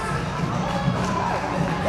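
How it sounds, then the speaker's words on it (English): Spectators at a scaled-division weightlifting competition cheer and shout continuously for an athlete finishing her final barbell lift, a dense crowd roar throughout. "Let's all cheer her on."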